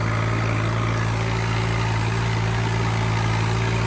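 A Swaraj 855 tractor engine runs at a steady idle, a close, constant low throbbing drone with no voices.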